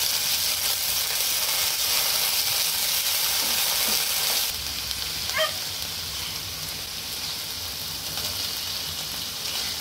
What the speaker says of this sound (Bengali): সেই তেলের মধ্যেই পেঁয়াজ কুচিগুলো দিয়ে দিলাম। যতক্ষণ না হালকা ব্রাউন কালার আসছে ততক্ষণ একটুখানি নেড়ে চেড়ে নেব।